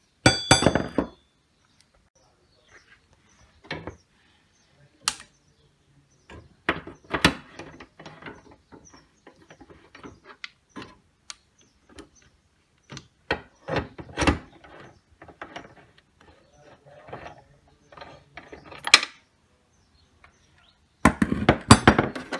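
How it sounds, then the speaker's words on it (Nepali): Scattered metallic clinks and ratcheting taps of nut bolts being loosened on a window air conditioner, with short bursts separated by quiet gaps and a louder clatter at the start and end. "यसलाई यो नट बोल्ट खोल्ने"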